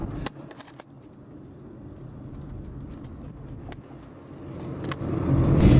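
Car cruising steadily at about 45 km/h on a road posted for 50–60 km/h, a continuous low engine and road rumble from inside the cabin that swells louder toward the end, with a few faint clicks and no talking.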